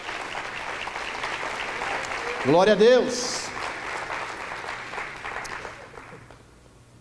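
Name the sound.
church congregation applause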